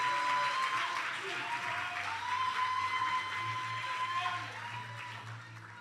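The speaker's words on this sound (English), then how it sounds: "Let's give him a round of applause." An audience at an honours day convocation gives sustained, even applause that fills the room, with a faint tone and a voice beneath it.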